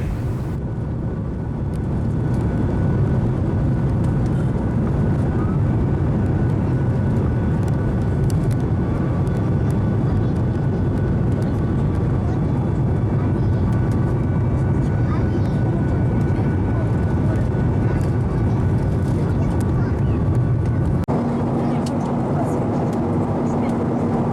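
Steady airplane cabin drone in flight on the way to Krakow, a loud continuous low rumble with engine hum that holds unchanged for the whole stretch, shifting slightly in tone near the end.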